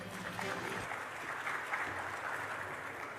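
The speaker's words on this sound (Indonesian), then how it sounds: "Boleh berikan tepuk tangan." Audience applause at the opening ceremony of the 40th Trade Expo Indonesia, a brief burst of steady crowd clapping, moderately faint and even across a few seconds.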